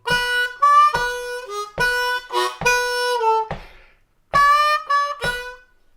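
Harmonica plays a blues lick, phrased in short bursts of reedy notes with draw bends swooping the pitch, alone and steady with brief gaps between phrases.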